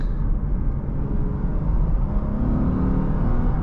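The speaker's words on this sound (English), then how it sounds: "But man, that engine sounds good." A 2015 Lexus IS 250 F Sport's 2.5-liter V6 engine runs with a smooth, low, steady hum, slowly building in pitch as it revs, close and continuous.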